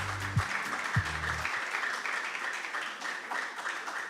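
Audience clapping for the competing schools at a national investment quiz contest, a steady broad patter of applause through the hall with a few words of speech at the very start.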